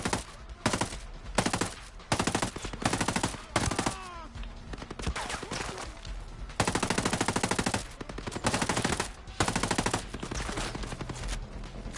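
Automatic gunfire in the tactical shooter Ghost Recon Breakpoint, loud and close, coming in repeated bursts of rapid shots with brief gaps between volleys and a stretch of quieter action midway.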